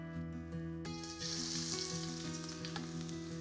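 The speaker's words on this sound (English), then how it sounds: "Fry this really quickly over a high heat, just for a few seconds, until they start to caramelise." Stir-frying in a very hot wok with vegetable oil for nasi goreng gives a dense, close hiss that swells into louder sizzling partway through, with faint tonal hum beneath and no voices.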